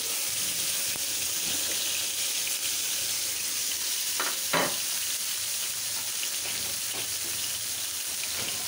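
Bitter gourd slices, salted and coated with turmeric powder, fry in hot oil with a loud, steady sizzle throughout, broken by a couple of brief stirring clatters near the pan.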